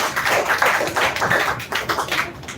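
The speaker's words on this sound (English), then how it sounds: "So please once again clap for him." Audience applause for a young speaker at a women's-status speech contest semi-final, dense steady clapping from many hands filling the room, loud and continuous with slight swells and no talk over it.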